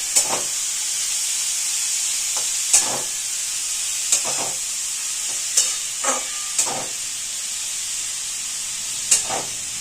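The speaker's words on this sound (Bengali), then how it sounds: "এবার আমরা ঘিয়ের মধ্যে গাজরটাকে ভালো করে ভাজবো।" Grated carrots frying in ghee in a pan for gajar halwa, a steady loud sizzling hiss with occasional clinks and scrapes of a spoon stirring.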